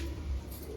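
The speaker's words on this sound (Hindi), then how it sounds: "और ये है भाई कबूतर।" A Punjabi Malwai pigeon gives a brief, low, throaty coo, close and clear, lasting under a second.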